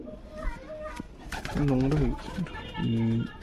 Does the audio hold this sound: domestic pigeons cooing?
yes